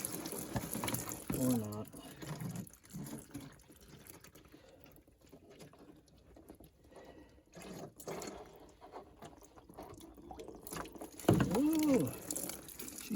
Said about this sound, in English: Oh, she's gurgling.